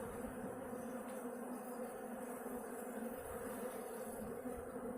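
Honey bees buzzing around an opened beehive during an inspection, a dense, continuous drone of many wings filling the air, steady and fairly close with no speech.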